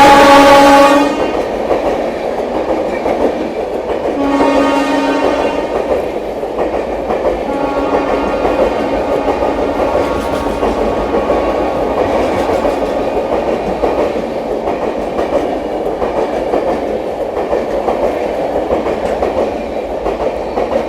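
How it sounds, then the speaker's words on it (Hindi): Sealdah–New Delhi Rajdhani Express (12313) overtaking a Magadh Express at Tundla Junction: loud horn blasts at the start and again around 4–5 and 8 seconds, over a steady rolling rumble of the passing train, no talk. "टूंडला जंक्शन में अपनी मगध एक्सप्रेस को ओवरटेक करने आ रही है 12313 शालदा नई दिल्ली राजधानी एक्सप्रेस"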